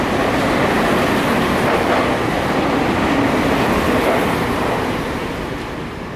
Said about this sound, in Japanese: 電車なんかどういう感じで撮れるんですかね。